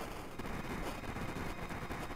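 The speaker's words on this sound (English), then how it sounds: "Let's have Luca use Mega Bomb, because why not?" A Mega Bomb attack in Chrono Trigger goes off as a dense, rapid crackle of retro game explosion sounds, steady and loud from start to finish.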